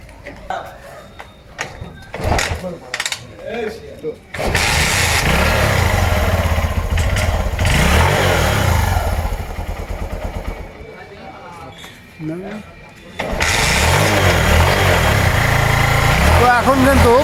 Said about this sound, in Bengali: তো আমরা বাইকটিকে স্টার্ট করব।